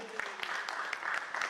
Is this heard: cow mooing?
no